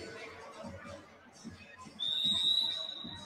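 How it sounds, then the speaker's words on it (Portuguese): A sharp, steady high-pitched referee whistle blast rings out over murmuring crowd noise at a youth futsal match, holding for over a second. "Apito árbitro"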